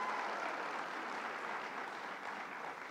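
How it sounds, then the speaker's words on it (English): A crowd at a bill signing event with Governor Cuomo gives a steady, distant round of applause for Assemblyman Marcos Crespo, a soft continuous patter of many hands with no voices. "Let's give him a big round of applause, Marcos Crespo."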